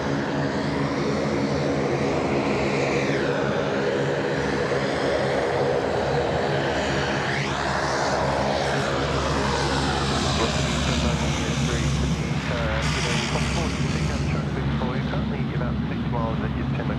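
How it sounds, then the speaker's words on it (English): A Link Saab 340 turboprop taxis at Sydney Airport, its propellers and engines droning loud and steady with shifting pitch sweeps, while people talk over the noise. "The Link Saab 340 taxiing up taxiway Charlie"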